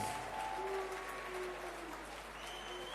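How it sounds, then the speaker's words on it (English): Applause for both fighters fills a Muay Thai fight-night arena, a broad wash of clapping and crowd noise heard from a distance, fairly faint, with some cheering tones mixed in. "can we please have a big round of applause"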